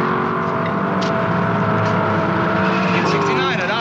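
Race cars roar past at high revs into a corner, a loud continuous engine howl with a rising pitch sweep near the end, while a commentator talks over it.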